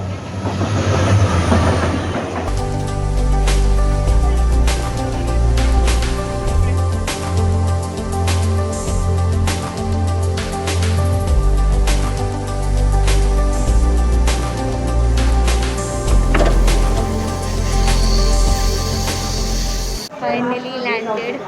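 Train rolling on rails, heard from inside a carriage: a steady loud rumble with repeated clicking wheel-joint knocks, continuing for about twenty seconds before cutting off.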